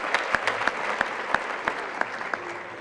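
Audience applause in a congress hall during a speech at the PES Congress in Madrid, a fairly even beat of loud claps with a lighter patter of hands in between.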